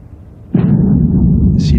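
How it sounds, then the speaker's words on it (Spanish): A single deep blast from a compressed-air seismic gun used at sea to search for oil, a sudden booming onset after a quiet moment, then a loud sustained low rumble. "Que emite a través de unos cañones de aire comprimido unas señales acústicas"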